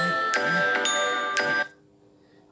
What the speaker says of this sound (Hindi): ये घंटी आ गई है